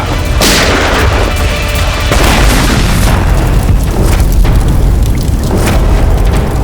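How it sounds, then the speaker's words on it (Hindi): A booby-trap bomb explosion: a loud, sustained roaring blast with heavy low rumble, filling the whole clip like the aftermath of a big explosion. "ओह, तो ये बूबी ट्रैप था। जैसे बैग से ये नोट बाहर गिरे, बॉम्ब ट्रिगर हो गया।"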